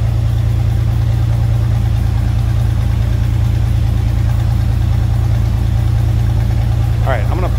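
A classic car with a 4-speed gearbox idles from behind, a steady low engine rumble holding evenly throughout, with a faint higher chirp near the end.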